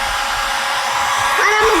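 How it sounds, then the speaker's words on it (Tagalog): A hair dryer blows with a steady, loud whooshing roar close by, its pitch wavering slightly toward the end. "Nagbo-blower ka lang ipapakita."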